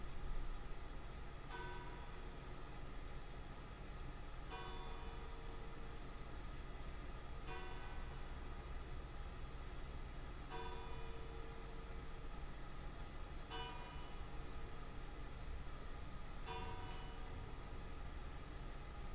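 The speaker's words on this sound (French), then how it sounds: "au son des cloches de l'église" A single church bell tolls slowly and evenly, about every three seconds, each stroke ringing out over a soft, steady background hiss.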